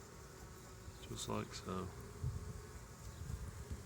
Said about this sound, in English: If the bees are still in the way a little bit, like right here, just give them a gentle nudge.